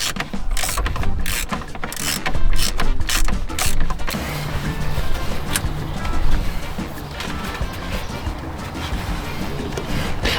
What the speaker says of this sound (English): now the socket's on there, I'm going to get it undone